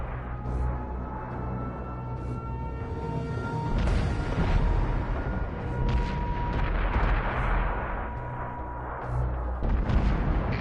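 Tank battle in a PS4 video game, with continuous booming explosions and artillery fire rumbling loudly throughout, several heavier blasts standing out over a dense battle din.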